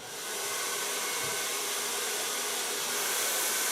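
A hair dryer blows on short bleached and colored hair, a close, loud, steady rushing roar that holds evenly throughout.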